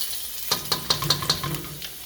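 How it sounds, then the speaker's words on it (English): Garlic dropped into a hot pan for Szechuan chicken bursts into loud sizzling, with a rapid series of five or six sharp crackling spits over a steady frying hiss, close and without talk. "All right, so garlic's going in"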